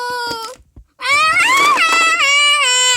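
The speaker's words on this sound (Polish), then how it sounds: "Oni to wariują, skaczą, piszczą" Small children shriek and scream wildly in a school classroom: piercing, high-pitched wails that break off briefly, then return loud and sustained for several seconds.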